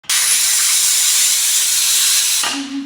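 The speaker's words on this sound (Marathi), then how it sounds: "आता कुकरचं शिट्टी लावूया आपण" A pressure cooker holding chicken in red chilli sends out a loud, close rush of steam that hisses steadily for over two seconds, then cuts off into a brief low tone.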